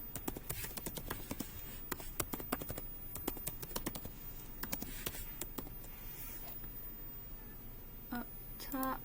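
Code being typed on a computer keyboard, with quick bursts of close, crisp key clicks and brief pauses between them. Quiet talk can be heard in between the bursts.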